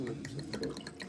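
Tap water pours into a glass at a restaurant table, a brief soft trickle with light drips and faint clinks close by.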